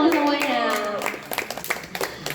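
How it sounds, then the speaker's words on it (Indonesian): A voice speaks briefly, then a small audience at a poetry exhibition talk claps in scattered, uneven bursts that stay moderately close and fairly light. "Tepuk tangan dong semuanya"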